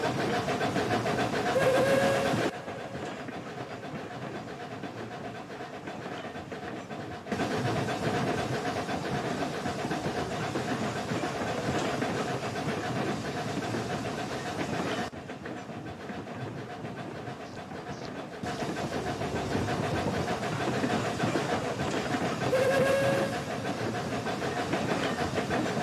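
A steam locomotive in the railroad game American Railroads: Summit River & Pine Valley runs with the throttle open, producing a steady rumbling roar that shifts in level, with short whistle-like tones near the start and end and no talking.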